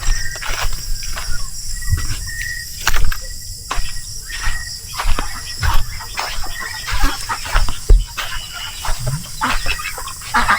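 Scattered chicken clucks and short calls over a steady shrill insect chorus, with sharp clicks and knocks nearby.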